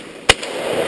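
A firework shot off outdoors lets out one sharp, loud crack, then a faint echo and a low rumbling hiss.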